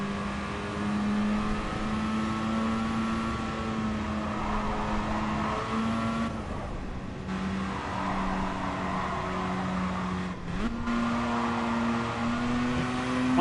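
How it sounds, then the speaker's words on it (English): A car engine in the racing video game Gran Turismo Sport drones steadily with a strong harmonic tone, its pitch dipping and climbing around two brief gear-change breaks, with no talk over it. "the engine noises aren't particularly good, but they did get the buzzer right"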